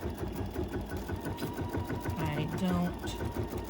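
A quilting machine stitching edge-to-edge rows across a thick quilt held in the hoop, giving a steady, close motor hum and rapid needle rhythm under a person talking.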